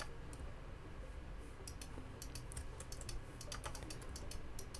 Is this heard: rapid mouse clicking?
yes